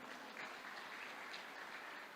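Audience of doctors applauding steadily at a speech in Indonesia, a dense even wash of clapping throughout with no talk.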